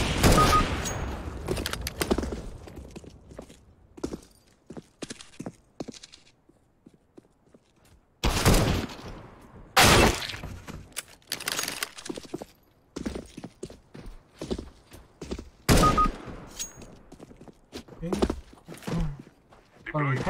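Gunfire in CS:GO on Dust 2 comes as sharp bursts of rapid shots spread across the round, with quieter gaps and footsteps between them, while a voice talks intermittently over the action.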